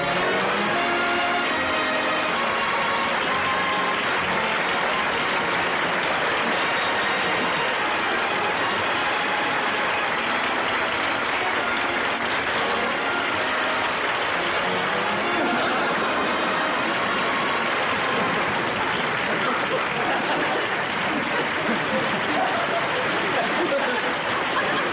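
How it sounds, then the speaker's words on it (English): A large show audience claps and cheers for Jack Benny in a dense, sustained wash of applause that stays loud and unbroken throughout. "Look at him milk that applause."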